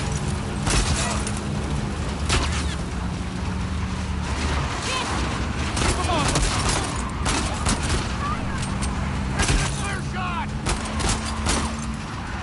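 Gunfire in The Last of Us Part II during a chaotic fight with a vehicle: repeated shots and booms in a dense, loud game mix, with voices shouting over the action.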